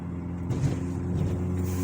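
A 1.8-litre turbocharged car engine with a K04-064 turbo drones steadily with low harmonic rumble, rising slightly as it revs under load above about 3,000 RPM, continuous and fairly close throughout.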